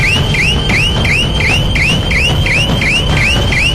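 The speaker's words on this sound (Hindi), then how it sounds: "यहाँ तैनात इलेक्ट्रॉनिक जासूस अलार्म बजा देंगे" An electronic border security alarm sounds in a rapid repeating electronic whoop, about ten rising chirps in under four seconds, loud and steady over a low background rumble, with no voices.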